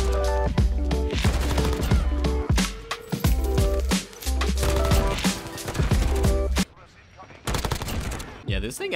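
An assault rifle fires in Modern Warfare in sharp, repeated bursts of evenly spaced shots with brief pauses between volleys, loud and close, before fading into quieter game sounds at the end.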